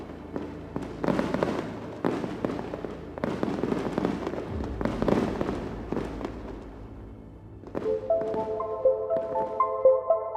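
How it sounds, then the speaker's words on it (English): Fireworks bursting in rapid, irregular succession, booming and crackling, then giving way to sustained tonal sounds near the end. "Fireworks."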